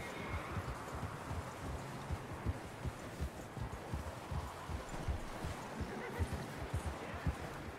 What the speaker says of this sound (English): Giddy up, giddy up, giddy up